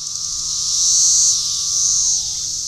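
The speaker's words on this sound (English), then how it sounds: "the song of the cicada is a discordant annoyance" Cicadas sing during a periodical cicada emergence, a loud, close buzzing drone that swells and fades in two broad pulses, with a faint steady tone beneath and no talking.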